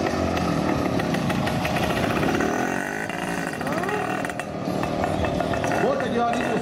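An old motorcycle of about 47 years runs with a steady, rough engine rumble, loud and close at an outdoor bike event, while someone talks over it.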